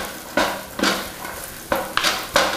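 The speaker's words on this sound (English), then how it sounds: "using a couple spoons here, I'm gonna quickly move these around the pan" Sliced yellow pepper sizzles in hot oil in a pan while two spoons toss it, giving a steady sizzle broken by five sharp scraping clatters at uneven intervals.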